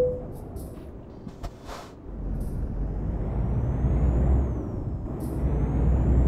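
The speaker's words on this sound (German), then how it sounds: "Huch, das war zu stark gebremst." A heavy truck in Euro Truck Simulator 2 braking hard, with a sharp air-brake hiss and a deep engine rumble that swells as the rig slows.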